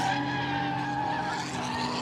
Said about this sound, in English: that number 24 Porsche getting very squiggly on the brakes